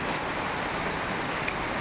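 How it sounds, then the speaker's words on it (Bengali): Heavy rain pours down steadily in Assam, a dense continuous wash of noise with no pauses and no voices, close and fairly loud. "এত বৃষ্টি নামছে যে গাড়ি না এখন আর যাওয়ার জন্য সাহস পাইতেছি না"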